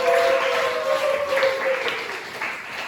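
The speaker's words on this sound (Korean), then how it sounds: "여러분들 열화와 같은 박수로 환영해 주십시오" Applause from an audience welcoming a lecturer to a religion studies lecture, a steady broadband wash of clapping sustained throughout, fairly loud and even with a faint tonal hum underneath.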